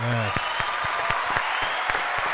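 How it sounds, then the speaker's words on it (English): Applause for two student athletes on a school show, with a brief burst of clapping from a small group under a voice at the start. "Let's give them a round of applause"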